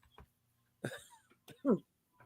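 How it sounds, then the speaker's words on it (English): A person coughs a few times in short, separate bursts, close and moderately loud, with brief quiet gaps between them. "sometimes I be coughing"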